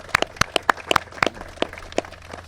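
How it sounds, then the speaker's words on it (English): Sparse, scattered claps from a small audience honoring local officials at a Bedford County business park event, about a dozen distinct hand claps spaced irregularly over a couple of seconds, moderately near with a low steady hum beneath. "If we could have a round of applause for all those folks."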